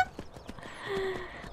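Horse hooves clip-clop in Skyrim in a steady, fairly soft walking rhythm, several evenly spaced thuds under a faint game ambience and a brief tonal effect.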